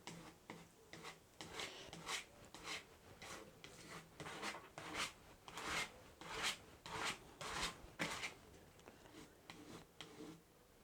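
A spatula spreads acrylic paint across canvas in repeated scraping, rasping strokes at a steady rhythm, close and fairly quiet with no talk.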